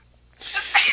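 A single sharp sneeze bursts out close to the microphone after a brief quiet moment, breathy and loud, with no talking.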